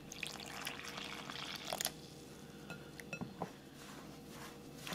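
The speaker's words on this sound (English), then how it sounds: "And then I'm going to slowly incorporate my warm water." Warm water pours into corn masa flour in a mixing bowl for gorditas, a soft trickle mixed with clinks of dishes and utensils, close and fairly quiet.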